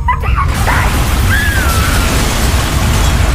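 Buildings crumble under attack in the video game SSF, a heavy, continuous low rumble of destruction that stays loud throughout, with a few thin whistling tones gliding above it early on.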